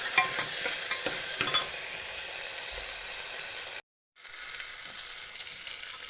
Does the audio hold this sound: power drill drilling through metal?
no